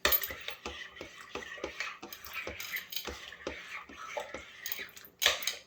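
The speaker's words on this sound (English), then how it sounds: "All right, we're going to stir this up real good." A spoon stirring beef stroganoff with home-canned caramelized onions in a pot, a series of quiet, regular metallic taps and scrapes against the pot, close and faint.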